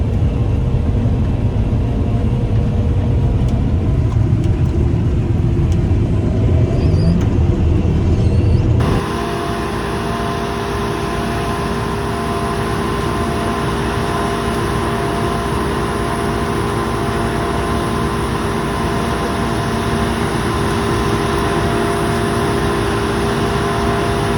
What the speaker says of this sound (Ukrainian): Моторю зараз Камазика